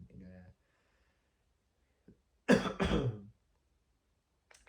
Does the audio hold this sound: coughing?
yes